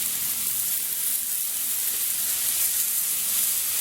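Hamburger patty sizzling on a Blackstone flat top griddle, a steady broadband hiss and crackle that holds evenly throughout with no talking.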